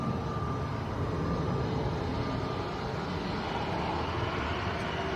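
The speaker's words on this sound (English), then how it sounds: "Here comes this EasyJet that's been sat waiting for about 10-15 minutes" An EasyJet airliner taxiing at Manchester Airport, a steady broad jet-engine roar and whine that holds at a constant moderate level throughout with no voices.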